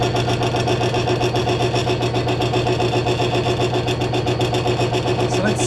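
A lubricant test rig runs continuously, its roller spinning against a loaded ball with a steady, loud mechanical drone and a fast rhythmic whirr that holds level from start to finish.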